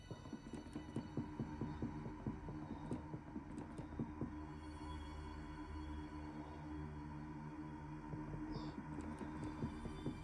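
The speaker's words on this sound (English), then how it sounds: "Vacuuming the hallways." A low, throbbing vacuum-like hum in the Look Outside video game, a steady droning pulse continuing for about ten seconds with a few faint high ticks, no talk.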